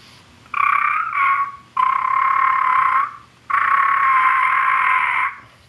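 A turkey call blown as sustained, unbroken tones: a short two-part note, then two longer steady calls of about a second and nearly two seconds, clear and close with no talking.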